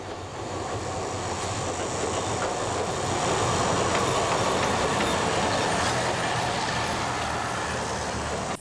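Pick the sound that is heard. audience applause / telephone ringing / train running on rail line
train running on rail line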